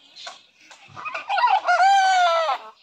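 A chicken calling loudly, scattered short clucks building into a long, strident crowing call close to the listener.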